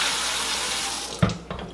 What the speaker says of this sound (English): I'm just going to fill this up with water